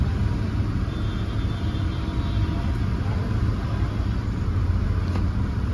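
A Tata Nexon BS6 with a Lovato CNG kit runs at a steady idle while it switches over from petrol to CNG, giving a constant low, close engine rumble with no change in revs.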